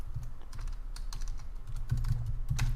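Fingers typing JavaScript code on a computer keyboard, a quick irregular patter of close key clicks with a few louder thumps, no voice.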